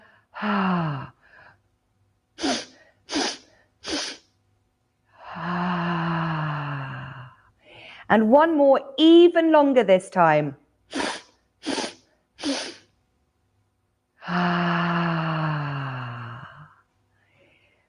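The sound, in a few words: children sniffing in breathing exercise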